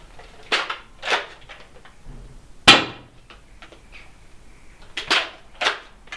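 Orange Mod Works Retaliator Stage 3 foam dart blaster firing, a few sharp close snaps and clacks spaced apart in a quiet room, one crack standing out louder than the rest.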